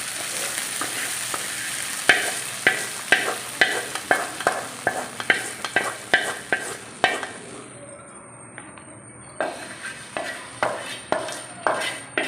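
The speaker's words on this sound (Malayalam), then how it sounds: "നമ്മുടെ വറുത്ത് വെച്ചിരിക്കുന്ന എല്ലാം കൂടെ നമുക്ക് നമ്മുടെ പായസത്തിനകത്തേക്ക് നമുക്ക് ഇട്ട് കൊടുക്കാവേ." Fried coconut pieces go into a pot of rice flakes payasam and are stirred in with a metal spoon, producing a steady series of regular scraping clinks against the vessel with a soft sizzle beneath.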